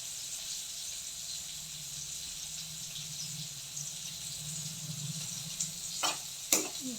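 Spinach thoran cooking in a pan: a steady, soft sizzle continues throughout, with faint stirring scrapes and a couple of sharper utensil clinks near the end, close by and without voices.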